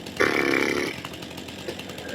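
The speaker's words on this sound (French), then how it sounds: "Je suis en train de faire un numéro d'équilibriste là avec la tronçonneuse" A chainsaw in a forestry video game revs in one brief, loud buzzing burst of under a second, then drops to a low idle hum.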